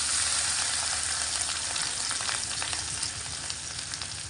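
Garlic and onion paste frying in hot oil with cumin seeds, a steady close sizzle throughout with small crackles and pops, no voices.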